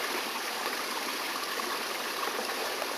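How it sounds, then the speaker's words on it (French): A small river crossing a walking trail in Zahamena, Madagascar, rushes and babbles continuously, a steady, fairly close wash of flowing water with no voices. "petite rivière sur notre chemin"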